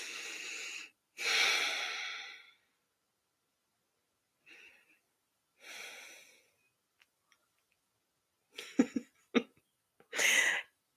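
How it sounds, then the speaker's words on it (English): Several deep breaths, slow inhales and long exhales in a quiet room, close and soft, with a few gasping, sniffing catches near the end and no talking. "let's take a breath."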